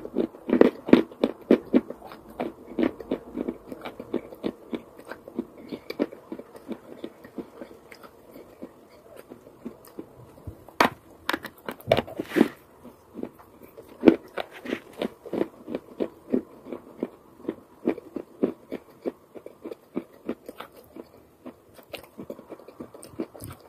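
Wet chalk crunches steadily between the teeth, a long run of close, crisp bites and chewing crackles with a loose, irregular rhythm and no talking.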